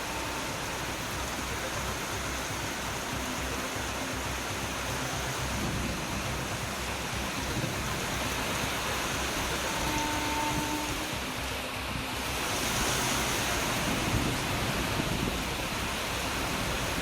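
Heavy rain falls over Chennai, a dense unbroken hiss of downpour on streets and surfaces that swells slightly louder partway through, with faint tones underneath and no voices.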